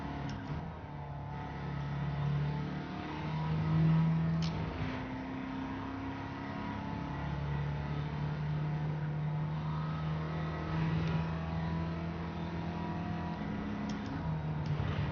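A Volkswagen Beetle race car in Gran Turismo 7 drones on at steady engine speed, its pitch climbing and dipping through gear changes. The engine sounds close and stays fairly quiet, with almost no talk.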